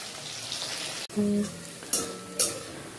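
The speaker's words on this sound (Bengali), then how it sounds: "ছোলা কচুগুলোকে এদিকে ভেজে নিচ্ছি, ভাজা হয়েই গেছে।" Taro pieces frying in a hot pan give a steady sizzle, broken by a couple of brief stirring scrapes and clinks of a utensil against the pan, with no talking.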